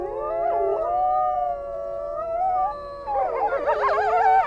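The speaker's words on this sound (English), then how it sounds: "As if saying their goodbyes, the wolves start to howl." Several wolves howl near a swamp in reindeer-hunting country, long wavering calls layering into a loud chorus that swells and grows more tangled in the second half.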